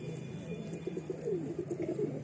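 Red pigeons, a Madras breed, coo steadily in a rooftop loft, a close, low rolling call repeating in soft pulses through the whole stretch against light outdoor background noise.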